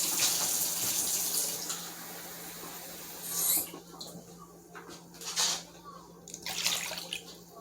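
Water pours steadily into a recipe, one cup measured out, then trickles in a few short splashing bursts, close by with a faint background hum.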